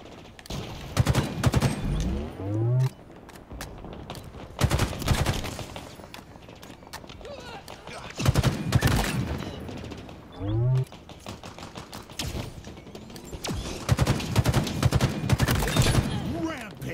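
Rapid gunfire from Halo Infinite Big Team Battle, with repeated loud bursts of shots in three clusters separated by quieter stretches, plus clattering in-game effects.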